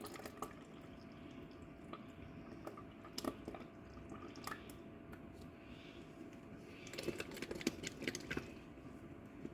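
Buttermilk is poured and measured out to 150 ml in a kitchen, giving faint irregular drips and soft liquid trickles with occasional small splashes, quiet and close with no talking.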